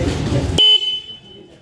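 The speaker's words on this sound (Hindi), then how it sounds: "और हॉर्न इसका कैसा है वो आपको मैं सुना देता हूँ।" A Honda Hornet 2.0 motorcycle horn gives one short, loud, close beep that cuts through the background noise, then the noise fades.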